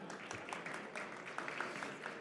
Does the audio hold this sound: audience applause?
yes